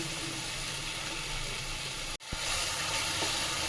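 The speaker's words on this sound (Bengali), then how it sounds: "ছোটো চামচে 3 চামচ আমি দই দিয়ে দিচ্ছি।" Yogurt hits hot spiced oil for a Bengali snakehead fish curry, giving a steady loud sizzle and hiss that breaks off for a moment, then bursts back up and frying continues close by.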